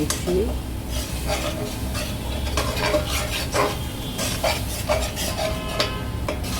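Garlic and ginger paste are stirred into a pan for a rohu fish and broad bean seed curry, with repeated clanks and scrapes of a spoon against the pan over a soft sizzle, close up.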